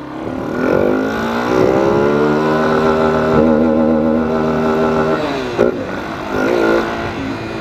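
Original Yamaha Fazer 250 motorcycle, freshly lapped valves and new seal, running without its exhaust header: a loud, close engine idling and revving in repeated rises and falls, alone without talk.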